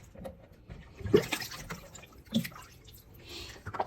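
Rinse water with a little apple cider vinegar drains from washed mixed greens in a kitchen sink, a faint sloshing pour with a few splashes and drips, no talk.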